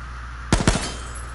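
Two sharp gunshots ring out in quick succession in the battle-royale shooter H1Z1, loud and close against a low steady hum, with no talking.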